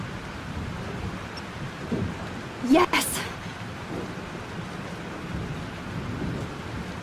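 A thunderstorm in the game Life is Strange: steady heavy rain hisses throughout while a sharp thunder crack bursts midway, and a voice briefly shouts over the storm.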